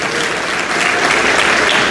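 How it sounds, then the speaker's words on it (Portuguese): A church congregation claps together in a sustained, even burst of applause, loud and unbroken from start to finish. "Aleluia, aplaudam ao Senhor."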